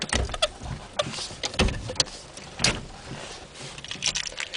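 A vehicle being switched off and its transfer case lever shifted into 4 low, heard as a series of close clicks, clunks and short mechanical rattles spaced irregularly, with no voices.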